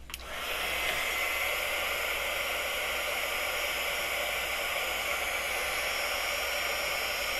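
A torch flame heating a brass blank, a steady loud roaring hiss that starts abruptly and holds constant throughout with no talking.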